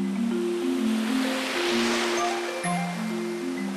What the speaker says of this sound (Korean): 파도 소리 들리세요?